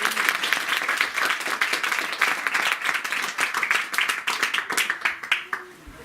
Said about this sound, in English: I did say a big round of applause.